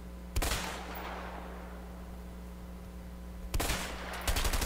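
Loud gunfire bursts from the video game A Way Out: a sharp volley at the start, then another cluster near the end, with a steady low hum between them and no talking.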